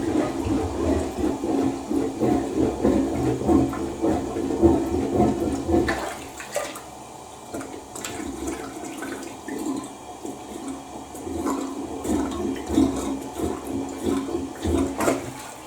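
Toilet flushing after being unclogged, one long rushing flush of water through the bowl and drain, fairly close, with a brief dip partway before the water noise swells again, no talking.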